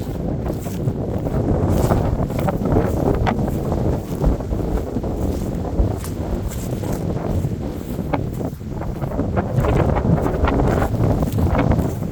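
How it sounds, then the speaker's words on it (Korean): Strong wind gusting outdoors at a farm on a blustery day, a continuous loud roar and buffeting that fills the whole stretch, with rustling and blustery surges but no talk. "바람이 매우 강하게 붑니다"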